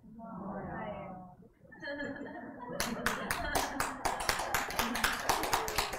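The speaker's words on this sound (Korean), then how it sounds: "뭐 박수까지 치고 그래요." An audience at a Korean church talk claps, first as a scattered few hands, then as a sharper burst of many quick, fairly close claps. Someone talks over the opening moments.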